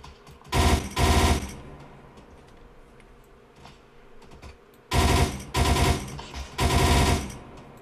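Bursts of automatic gunfire from a shooter video game, sustained rapid rattles close and loud, two long volleys then a pause, followed by three more volleys in quick succession.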